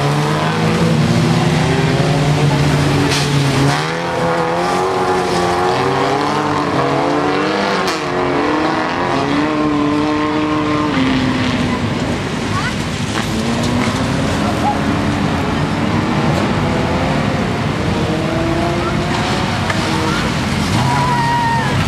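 Race cars in a women's rallycross-style race at Vikedal drive past, engines revving and rising in pitch with gear changes, close and loud, while a commentator talks over the steady engine noise throughout.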